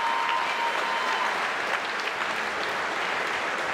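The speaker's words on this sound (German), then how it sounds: "Jetzt feiert ihn das Publikum." A boxing crowd applauds and cheers a European champion after a knockout win, a continuous dense roar of clapping that stays loud and even throughout.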